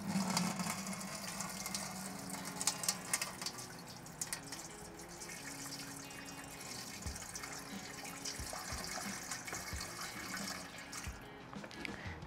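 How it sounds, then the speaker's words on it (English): Water splashes and trickles steadily into a metal can cooker pot for a seafood boil, with clinks and knocks of handling around it, fairly quiet and continuous. "Just gonna add some water to it."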